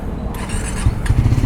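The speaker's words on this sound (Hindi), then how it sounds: "और बाइक को थोड़ा सा कोल्ड स्टार्ट भी कर देते हैं।" A motorcycle fires up on a cold start, its engine catching and then idling with a rough, uneven, rising rumble that stays close and fairly loud.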